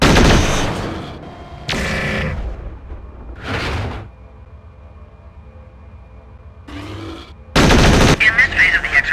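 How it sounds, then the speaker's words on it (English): A battle mech in MechWarrior 4: Vengeance training fires all its weapons at once, loud layered blasts of gunfire and cannon bursts in several separate volleys with quieter mechanical hum between them. "An Alpha Strike is when you fire all your weapons simultaneously. Perform an Alpha Strike now"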